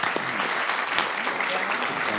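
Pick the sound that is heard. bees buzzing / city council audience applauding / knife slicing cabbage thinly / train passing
city council audience applauding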